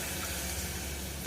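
Water pours steadily into a pot while making carrot soup, a continuous soft rushing flow with no voices.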